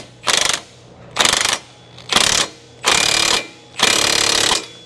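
A ratchet tightening a ball joint press on a 2002 Ford Explorer 4.6 run dry without lubricant, five loud, close bursts of rapid mechanical clicking separated by short pauses.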